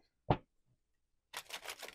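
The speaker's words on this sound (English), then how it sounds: "One more shuffle, please, Spirit." A short sharp tap, then after a pause a quick run of soft riffling flutters as tarot cards are shuffled, close and fairly loud.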